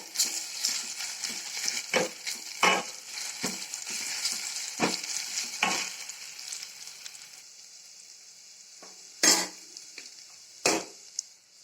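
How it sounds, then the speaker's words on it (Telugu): Ginger garlic paste fries in a pan for a village-style drumstick lentil stew. A steady, close sizzle is broken by repeated sharp clacks from stirring, and it grows quieter toward the end. "అల్లం వెల్లుల్లి పేస్ట్ వేసుకుంటున్నా పచ్చివాసన పోయేంత వరకు వేగనివ్వాలా"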